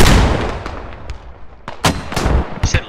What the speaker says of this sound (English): Good mortars. Keep shooting.